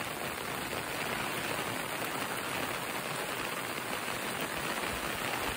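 Heavy rain pours down over rice paddy fields in Rajapur, Konkan, India, in a dense, constant hiss, loud and unbroken throughout with no voices.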